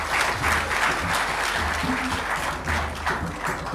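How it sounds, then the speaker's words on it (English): A steady round of applause from a crowd, continuous clapping throughout with no voices standing out. "He deserves another round of applause."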